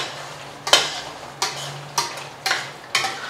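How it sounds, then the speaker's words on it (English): Tandoori chicken vindaloo in a hot pot is stirred in five distinct scraping strokes at a slow, even rhythm, each a sharp close scrape of a utensil over a faint background sizzle. "Okay, so I'm going to stir this again."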